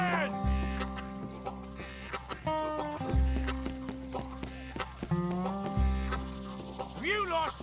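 A horse in the video game Red Dead Redemption 2 clip-clops and snorts, with repeated hoof beats, a low recurring tonal game drone, and whinny-like sounds near the end, close and clear.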